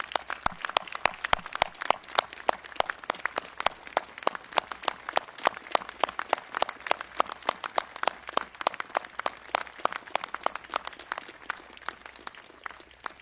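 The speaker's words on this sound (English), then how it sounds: "give our teachers the applause they deserve" Audience applauds teachers at a governor's speech, a sustained burst of many hands clapping, moderately distant and even in intensity, with no talking over it.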